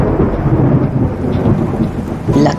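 A thunderstorm with heavy rain, a steady dense rush of rainfall and low rumbling thunder that swells again near the end, loud and close with no voices.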